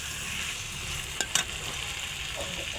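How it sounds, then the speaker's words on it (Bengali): Cut potatoes fry in spice paste in a pan for a bhola fish curry, a steady close sizzle interrupted by a couple of brief spoon clicks midway. "আলুটা একটু কষে নেবো"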